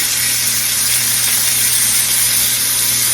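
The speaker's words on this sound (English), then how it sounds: "let's get these pork chops in this hot pan" Pork chops sear in a smoking-hot pan with a loud, steady, close hiss and crackle that holds evenly throughout, and no one speaks.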